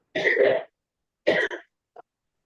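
During a talk at an amateur radio club meeting, someone coughs twice, each cough harsh and close, the second followed by a short catch, with a faint throat sound at the end and silence between.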